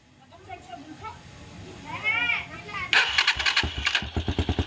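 A motorcycle engine kicks or cranks and fires up during a battery-charging wiring check, settling into a loud, rapid, even idle pulse after a rough start, with a voice talking earlier.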